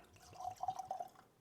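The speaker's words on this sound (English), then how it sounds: "pour came out of the bottle pretty good" Russell's Reserve 10 Year bourbon whiskey glugs out of the bottle into a glass, a short burst of quick, close liquid gurgles that fades after about a second.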